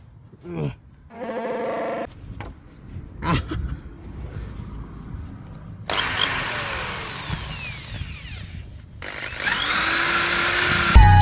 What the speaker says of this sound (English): Let's get the drill out.